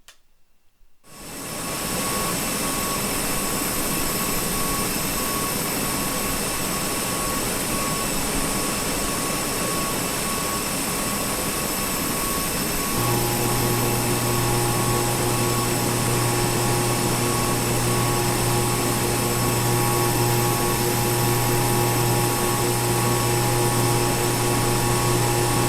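A PIA airliner's jet engines roar steadily in a flight simulator on approach to Skardu, a loud continuous whine-and-rumble that swells in just after the start, with a low tonal hum added midway.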